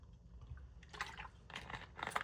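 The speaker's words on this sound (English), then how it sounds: "I'm gonna take a sip of water" Water being sipped from a drink, a few short wet slurping and swallowing bursts, quiet and close, with no talking.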